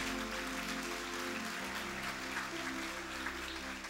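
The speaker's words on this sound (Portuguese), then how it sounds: "Pode aplaudir o Senhor." A church congregation applauds together, a steady continuous wash of clapping with sustained music or voices underneath and no speech on top.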